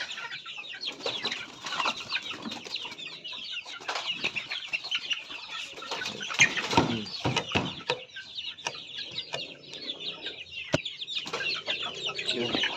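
Native chickens and roosters cluck in a busy flock, steady chatter of short calls over rustling and a few wing flaps, fairly close.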